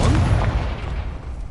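Confringo fire blast spell explosion in Hogwarts Legacy: a heavy, booming burst with a deep rumbling low end that fades out over about a second and a half.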